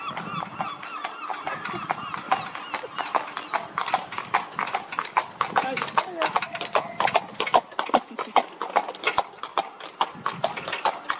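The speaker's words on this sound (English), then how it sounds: "It would not be Blackpool if an horse didn't go past." Horse hooves clip-clop steadily past at Blackpool Pleasure Beach, a quick rhythmic train of sharp knocks on the road, fairly close, with voices talking over them.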